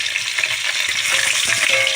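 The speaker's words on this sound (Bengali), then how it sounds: "মাছগুলো আমার একদিকে ভাজা হয়ে গিয়েছিল, আমি উল্টে দিয়েছি আরেকদিকে ভাজা হওয়ার জন্য" Mrigal fish pieces fry in hot oil in a pan, a loud, close, continuous crackle and sizzle with faint clatter as the fish is turned or lifted, and no voices.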